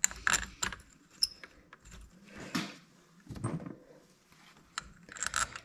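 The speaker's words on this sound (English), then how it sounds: "I think we're going to go ahead and bolt these down so that they stay in." Power valve bolts on an Arctic Cat snowmobile being snugged down by hand: intermittent ratcheting clicks, metallic taps and tool clinks, close and quiet, separated by short pauses.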